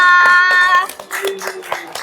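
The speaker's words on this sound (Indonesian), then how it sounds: "Betul, tepuk tangan untuk Salma." A classroom of students claps hands for a classmate, a short burst of brisk, uneven claps following a sustained tone, fading after about two seconds.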